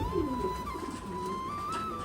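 Pigeons at a pigeon farm coo in low, soft bursts close by, over a steady background hum and a faint high whine.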